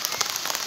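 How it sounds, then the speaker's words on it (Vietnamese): Rain patters steadily on a surface, a dense close hiss of drops without any speech over it. "Mưa rồi, mưa rồi, mưa rồi."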